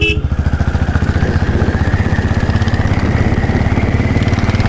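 A Royal Enfield Classic 500 Desert Storm single-cylinder engine pulls at open throttle in high gear at low speed, a close, loud, rapid even thumping beat that holds steady throughout.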